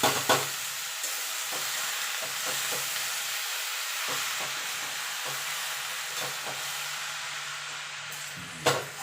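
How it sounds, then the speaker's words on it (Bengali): Frying eggplant in a pan with fenugreek greens stirred in: a broad, steady hiss of frying under scattered spatula strokes, with a couple of louder knocks at the start and the end. "এবার যে মেথি শাকটা আমি নুন জল থেকে ছেঁকে একটা ঝুড়ির মধ্যে রেখেছিলাম সেটা দিয়ে দেবো"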